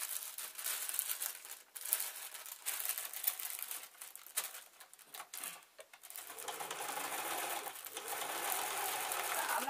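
A sewing machine stitching through scrap cloth and a polythene bag, with bursts of mechanical whirring broken by crinkling plastic, then a steadier continuous run of stitching.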